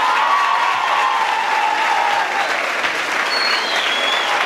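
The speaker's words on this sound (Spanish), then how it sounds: "gracias a todos quienes nos han apoyado a través de un fuerte aplauso que ustedes hacen a su" Applause from the crowd at a 2018 graduation ceremony closing for COBACH Empalme campus: dense, steady clapping that sustains at an even level for the whole stretch, with no pause.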